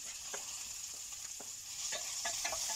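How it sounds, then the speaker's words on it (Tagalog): Onions and garlic sauté in a pan for a spaghetti sauce, a soft, steady sizzle with occasional light stirring scrapes, faint and close, with no talking. "So medyo na luto na ng konti yung onion, kaya lagay ko yung bawang."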